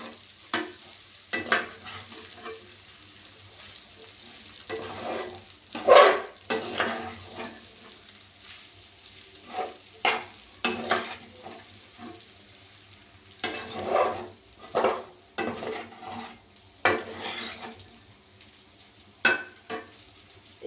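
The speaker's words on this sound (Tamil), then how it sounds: "முட்டையை போட்டு நல்லா மிக்ஸ் பண்ணுங்க" A utensil stirs pasta and egg in a pan with soft sizzling beneath, producing intermittent scraping strokes and clatters that come in bursts, close by, with quiet gaps between.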